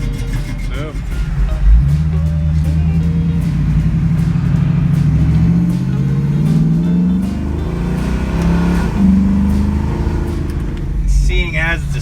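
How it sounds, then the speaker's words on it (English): A 1967 Ford Mustang coupe idles with a choppy, rumbling engine throughout, close and steady. People talk over it. "Nice choppy idle, sits there, ready to go."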